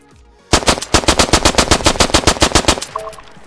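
Rapid automatic gunfire in the video game ArmA 3, a loud, close burst of evenly spaced shots lasting a few seconds, then stopping abruptly.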